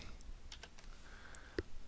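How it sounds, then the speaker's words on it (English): Quick, irregular clicks of keys on a computer keyboard, close and fairly soft, with one louder keystroke near the end and no talk. "I'm just going to start typing in here"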